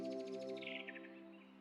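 Birds chirp in a Meta Quest 2 virtual reality game, a quick run of bright trilling tweets over a steady tonal hum, moderately faint, with no talking.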